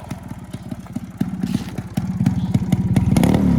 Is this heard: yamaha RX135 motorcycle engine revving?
yes